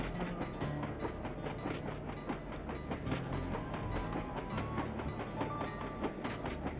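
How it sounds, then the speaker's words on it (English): A train ride in the video game Sly 2: Band of Thieves, with a continuous rolling rumble and rhythmic clickety-clack from the wheels, with faint higher game tones over it and no voices. "I'll take a ride on the train over to the safe house."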